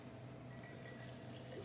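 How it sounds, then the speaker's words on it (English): Water running from a tap as items are rinsed off, a faint, steady splashing stream with no talk over it. "Just rinse these off."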